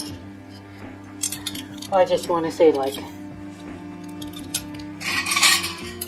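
Mangled sterling silverware scrap clinking and rattling in bursts of metallic chinks, close by, with someone talking over and between the jangles.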